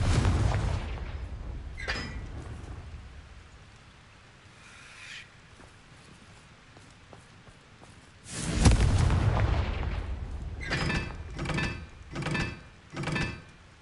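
Confringo fire spell explosions in the Hogwarts Legacy video game, a few booming blasts with the loudest burst about halfway through, followed by several shorter thumping impacts, with no talking.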